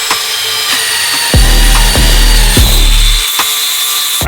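A power tool saws through a chunk of an electric quad's frame, cutting in loud bursts that rise and fall in four or five strokes, close and harsh with a constant high whine.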